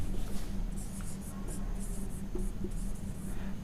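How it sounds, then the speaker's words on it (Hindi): Marker or chalk scratches across a board as a single word is written, a series of short squeaky strokes with small gaps over a steady low room hum, close and alone. "भवानी लिखते हैं"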